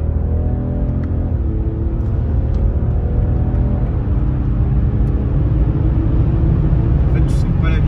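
A four-turbo car accelerating at full throttle, its deep engine roar climbing in pitch over several seconds, heard from inside the cabin as people talk.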